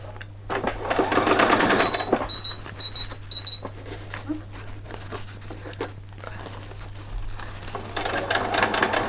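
Sewing machine running straight across a skirt hem on a party dress, short mechanical bursts with crinkly handling sounds and electronic beeps over a constant low hum.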